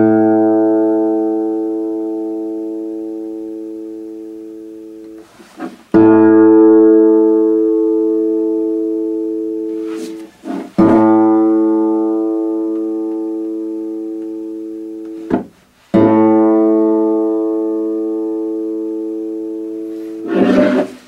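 Guitar fifth string plucked hard, ringing out with a low fundamental and bright overtones that slowly decay; four separate plucks spaced about five seconds apart, close and clear with no talking.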